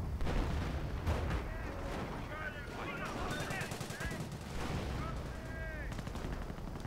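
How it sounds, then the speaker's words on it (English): Machine gun fire in the Company of Heroes strategy game, rapid bursts of gunshots mixed with artillery blasts and battle noise, loud and continuous with overlapping shots throughout. "I'm still forced to back off from this machine gun fire"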